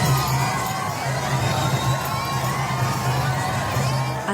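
Citizens lining the street cheer during a royal procession as the king's cortege passes with the French president, a steady, distant wash of crowd shouts and whoops continuing without a break.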